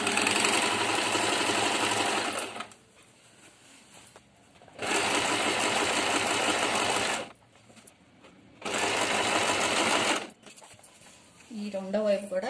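A sewing machine stitches the shoulder seam of a men's half kurta in three loud, steady whirring runs separated by quiet pauses, and a voice speaks briefly at the end.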